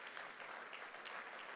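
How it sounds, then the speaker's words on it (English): Audience applause at a World Trade Week event, a steady wash of clapping from a crowd, fairly faint and continuous with no talk over it. "Let's give her another round of applause."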